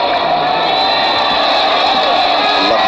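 Dense stadium crowd at a Pakistan versus World XI cricket match, nearly every seat taken, cheering and shouting slogans in one continuous, loud, roaring wash.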